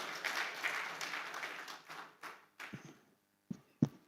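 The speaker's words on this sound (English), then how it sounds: "Please, a round of applause for her." An audience at the 7th NAS Annual Scientific Conference claps. The applause is soft and fairly distant, fades out after a few seconds, and ends in a few isolated claps.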